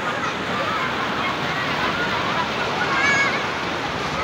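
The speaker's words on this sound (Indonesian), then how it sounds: "seperti inilah suasana di sekitar pantai Babah Kuala" Surf rolls in at Babah Kuala beach in Lampuuk, Aceh Besar, a steady close wash of breaking waves filling the whole stretch with one slight swell near the end.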